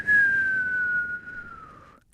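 A person whistles one sustained note for about two seconds. The pitch sags slightly as the note fades out, and nothing else is heard around it.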